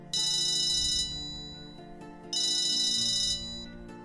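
A mobile phone rings with an incoming call, two bright electronic ringtone bursts about a second long, separated by a pause, close and clear with no talking.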